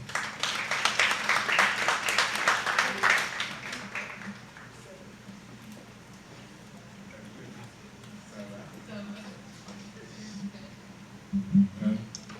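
Audience applause at a UN Women workshop for recruiting female volunteers: dense, fairly loud clapping from a room full of people for about four seconds, then it dies away to low hall hum with faint, scattered voices.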